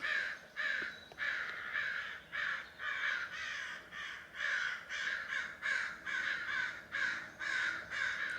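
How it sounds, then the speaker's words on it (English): A crow caws over and over in a steady rhythm, about two harsh calls per second, fairly clear against quiet background. "The crow says it's not a joke."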